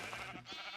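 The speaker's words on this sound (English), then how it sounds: "So now we got a whole nother round of sheep" A sheep in Minecraft gives a short, clear bleat, close and alone.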